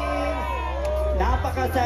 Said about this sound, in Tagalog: Isang malakas na hiyawan, DRRMO.